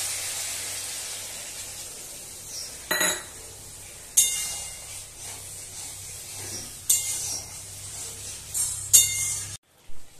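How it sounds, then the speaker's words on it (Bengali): Milk being stirred into a pan of shukto, a Bengali vegetable dish: a faint steady hiss runs under several clinks and scrapes of a spoon against the pan, spaced a few seconds apart. "এবার আমি এই যে দুধটা এটা মিশিয়ে দিচ্ছি"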